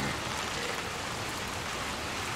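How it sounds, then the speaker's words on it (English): Steady rain pours down in the Little Nightmares II video game, a dense, even hiss of falling water that fills the whole moment without pause, loud and close, with no voices over it. "Oh, it's raining."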